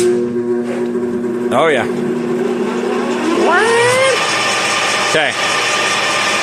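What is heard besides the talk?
LeBlond Regal lathe running up to 491 RPM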